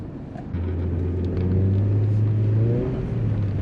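Nissan 200 SX S14 drifting around a curve at an ADAC driver-training course in Hannover, a loud, steady engine drone that rises in pitch as it revs and holds high, with no talking.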